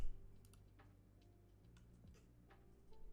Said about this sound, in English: someone has a very loud mechanical keyboard